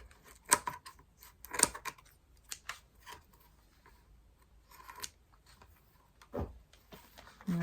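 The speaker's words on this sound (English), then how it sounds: "So I'm going to use some scissors to cut that out." Scissors snip hair wound around the brush roll of a Shark cordless stick vacuum cleaner, giving a few sharp, close clicks spaced irregularly, with quiet pauses in between.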